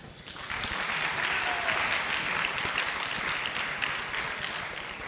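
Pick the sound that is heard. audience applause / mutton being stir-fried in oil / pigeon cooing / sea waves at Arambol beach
audience applause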